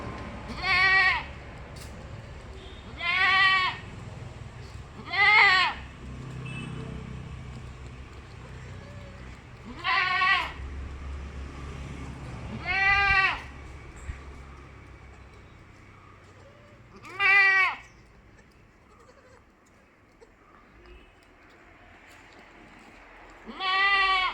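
A crossbreed mother goat and her two fifteen-day-old kids bleating, several loud, wavering calls spaced a few seconds apart, some deeper and some higher, against quiet background noise.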